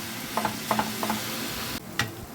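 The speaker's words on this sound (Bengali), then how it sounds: "এটাকে এইভাবে অনবরত নাড়িয়ে নাড়িয়ে একটা ফুট তৈরি করে নেব আমি" Coconut and jaggery filling stirred in a pan over low to medium heat: a soft steady sizzle under a few light scraping strokes of the spoon, close and moderate, without speech.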